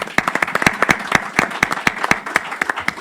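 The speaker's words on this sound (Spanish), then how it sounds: "un aplauso" A small seminar audience claps briefly, with a few distinct hands striking in a loose, uneven rhythm, close and fairly loud.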